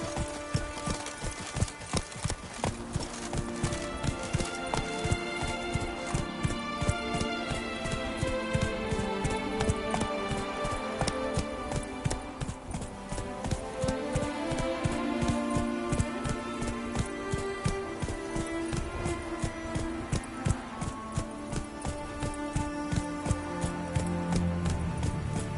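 Hooves of the horse Roach in The Witcher video game, a steady, rhythmic galloping clip-clop running continuously and fairly close, with faint music or ambience underneath.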